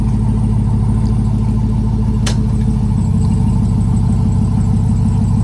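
A lifted Ram TRX pickup on 40-inch mud-terrain tires idles close by with a loud, steady low rumble and no gaps, with a single brief sharp click partway through.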